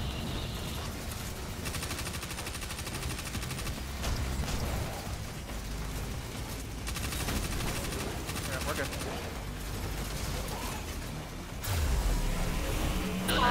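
Sustained weapon fire in Destiny 2 against shielded enemies, steady rattling bursts at moderate loudness, layered with game effects and a player talking over the action.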